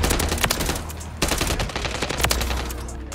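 Light machine gun fire in Modern Warfare 3 multiplayer, loud sustained automatic bursts with a brief break near the middle, dense and close with no talking.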